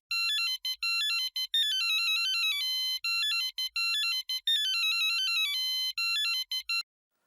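A phone rings with an electronic melodic ringtone, repeating in bright bursts several times, loud and close, then stopping abruptly before the end.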